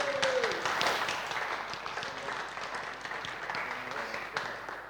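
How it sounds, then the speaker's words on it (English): Applause for the winner at a touring car racing event at Brands Hatch Indy, fairly faint, steady clapping with some speech and a brief tonal sweep at the start. "Big round of applause, please."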